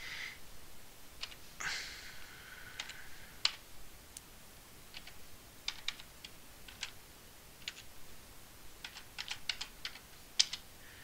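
Someone typing a password on a computer keyboard, giving quiet, close, irregular key clicks in short bursts with brief pauses, including a sharper tap or two.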